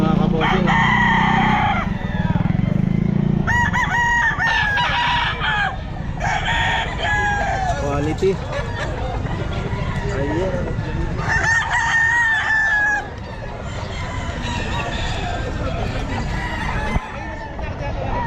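Gamefowl roosters at a busy pet market crow repeatedly, several overlapping calls near and far, mixed with clucking and background chatter as people talk throughout.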